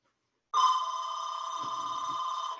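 An electronic telephone ringer sounds at a home office during an interview, starting abruptly and trilling steadily and fairly loud for about two seconds, with faint background noise and no one speaking.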